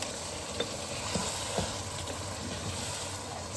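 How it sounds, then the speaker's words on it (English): Chicken karahi with fresh tomato and chili sizzles and fries in a pan while being stirred, a steady hiss broken by a few soft clicks of the utensil against the pan, close and moderately quiet. "Let's stir it for a while."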